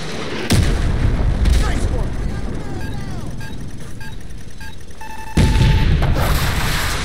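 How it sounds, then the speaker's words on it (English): Javelin launcher firing in Call of Duty Modern Warfare Remastered: two heavy booming blasts, one near the start and one later, with rumbling battlefield noise, faint radio chatter and electronic beeps between them. "Yeah, even the sound of the javelin,"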